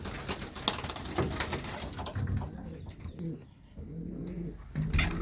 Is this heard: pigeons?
yes